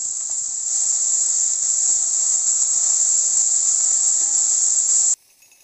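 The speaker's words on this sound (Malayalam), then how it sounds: "സവോള ചെറുതായിട്ടൊന്ന് വഴറ്റിയെടുക്കാം നമുക്ക്" Chopped onions sizzle in hot oil in a pan for Kerala-style beetroot thoran, a loud, steady hiss close up that cuts off sharply near the end.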